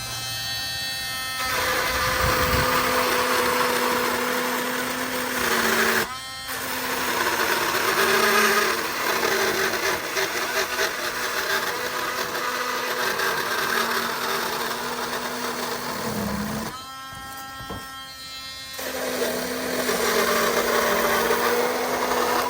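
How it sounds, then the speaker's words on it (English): Cordless Dremel rotary tool carving styrofoam for a spooky boarded-window Halloween prop, giving a steady high motor whine that runs continuously and loudly with grinding texture, broken by brief pauses and changes in pitch. "I can't be the only one who finds the sound of this Dremel on the styrofoam oddly satisfying."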